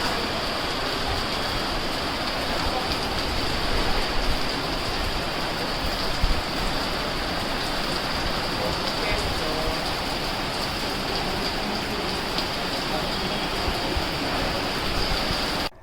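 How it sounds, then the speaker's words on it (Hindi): Light, unseasonal drizzle over Bhuj, Gujarat, a constant broadband wash of falling rain lasting throughout, fairly loud and unbroken, with no one speaking. "भूज के शहर और अगल बगल के ग्रामीण इलाकों में बारिश की बूंदाबांदी दर्ज की गई"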